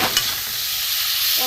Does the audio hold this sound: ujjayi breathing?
no